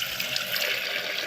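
Water pours into a kettle at home in the UK, a brief, steady close splashing rush with no speech over it.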